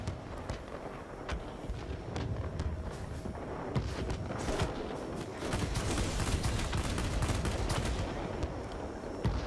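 Rapid, continuous gunfire from a Ki-162 jet's guns in World of Warplanes, sustained bursts rattling on for several seconds, loud and dense with no speech.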